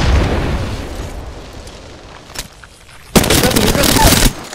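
Grenade blasts in a frantic multiplayer shooter match, a heavy booming roar at the start, a brief pop midway, then another loud explosive burst that rumbles for about a second before cutting off.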